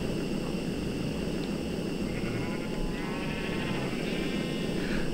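Sheep bleat from a sheep spawner in modded Minecraft, several wavering calls in the later seconds, moderately loud, riding over a constant dense whirring and rushing background.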